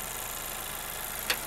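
A 2022 Honda Civic Sport Touring's 1.5 liter turbo engine idles with a steady, quiet, even hum, broken by a single brief click near the end.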